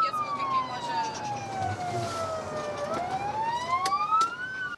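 Fire engine siren wailing on a city street in Ukraine, a loud continuous tone that sweeps down and then rises again, with traffic noise beneath and no speech.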